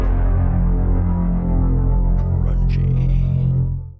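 A thick, grungy distorted synth tone from a virtual instrument's distortion effect drones with heavy low harmonics, loud and steady, fading out at the end.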